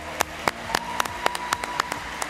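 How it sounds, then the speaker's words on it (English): Applause for science award finalists at a ceremony, heard as a short run of fairly sparse, sharp claps at an even pace, close and distinct rather than a dense roar. "Let's give all of our finalists a big round of applause"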